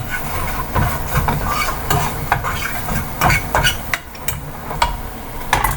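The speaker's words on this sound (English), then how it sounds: "You saute corn and vegetables, since it's such a small amount, you really won't even have to cook it that long" Corn and mixed vegetables sautéing in a pan, a steady close sizzle with frequent stirring scrapes and clinks of a utensil against the pan.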